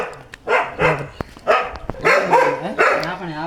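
A dog barks repeatedly in a forest in Sri Lanka, a series of close, loud barks and yelps in an uneven rhythm with a few sharp clicks between them.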